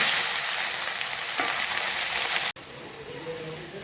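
Cumin, ginger-garlic paste and chopped onion hitting hot oil in a pan for pulao, a loud, dense close-up sizzle that cuts off abruptly, then a softer frying hiss.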